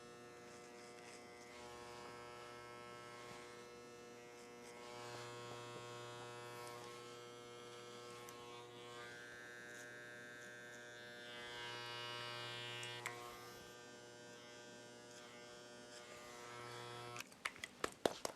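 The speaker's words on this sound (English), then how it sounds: "as we finish up with the adjustable clipper" An adjustable electric hair clipper buzzes steadily and quietly as it tapers a man's sideburns, the motor tone shifting slightly as it moves against the hair, with a few clicks at the end.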